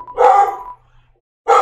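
Two loud, close barks from a dog in the video game Undertale, a short bright yip followed by a pause and a second bark, with no talking.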